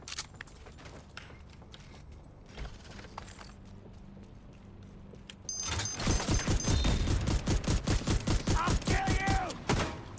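Rapid nail gun shots in a video game, starting after a quieter stretch with faint voices and continuing as a loud, dense burst of sharp repeated bangs.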